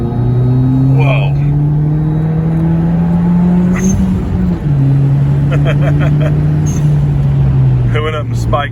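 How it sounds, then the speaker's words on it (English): A 2011 Hyundai Genesis Coupe 2.0T with an aftermarket intercooler pulls hard in third gear, a steady loud engine drone from inside the car with a brief dip near the middle, while people speak over it. "here is a third gear pull."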